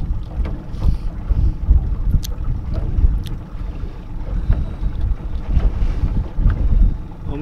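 Motorboat running across open water during a fishing trip, with a steady low engine and hull rumble under buffeting wind noise on the microphone, continuous and fairly close, no talking.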